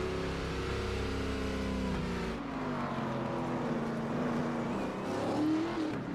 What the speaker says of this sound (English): See all these cars coming down pit lane.